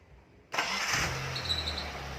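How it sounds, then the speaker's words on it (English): Car engine cranking and catching after a freshly filled power steering reservoir; a sudden burst of starter and ignition noise gives way to a steady low idle. "And start the engine."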